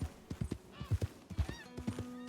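Horse hooves clip-clopping in Red Dead Redemption 2, a steady run of close hoof thuds with a faint whinny-like tone near the end, no talk over them.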